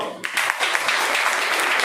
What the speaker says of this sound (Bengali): তারপরে হাততালি দাও।